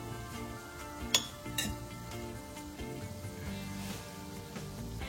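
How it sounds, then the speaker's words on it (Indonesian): Crushed garlic, four cloves, stirred into boiling water in a metal pot, with bubbling, utensil scrapes and a couple of sharp clinks against the pot, heard close and fairly quiet with no talking. "kita masukkan 4 siung bawang putih yang udah aku haluskan, kita aduk."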